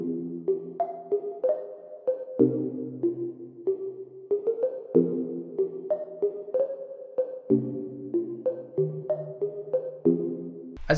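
Ambient bell melody in FL Studio played without halftime, bright sustained tonal notes stepping through a looping, out-of-scale pattern at a quicker pace, clean and alone with no talking.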